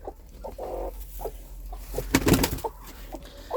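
A broody hen sitting on goose and duck eggs gives soft, intermittent clucks as she is lifted off the nest, with a louder, agitated burst midway amid close handling noise.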